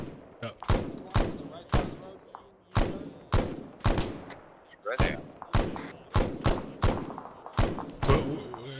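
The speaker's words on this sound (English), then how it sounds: "Small arms fire." Small arms gunfire in a military exercise, a string of about fifteen sharp, loud shots in uneven rhythm with short gaps and echoing tails, and a voice briefly heard between them.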